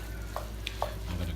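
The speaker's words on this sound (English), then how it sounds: "I will now mix everything together. A good stir." A spoon stirs a bolognese meat mixture in a pan, giving a few faint scraping clicks over a low steady sizzle of frying.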